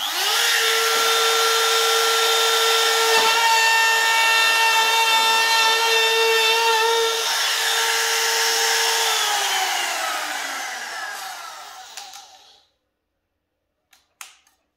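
A power tool cuts a juice groove into a wooden board guided by a jig: a loud sustained whine that holds for about ten seconds, winds down as the tool stops, then a couple of faint clicks.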